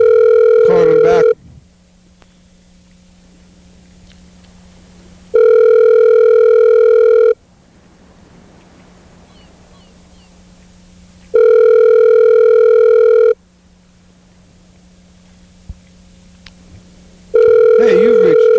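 Outgoing telephone ringback tone on a call, long steady rings repeating about every six seconds with quiet gaps of line hiss between them, heard alone.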